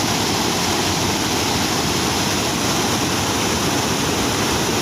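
Floodwater after heavy monsoon rain rushes and roars steadily near farm fields and a brimming village pond, a loud continuous broadband wash with no breaks and no voices.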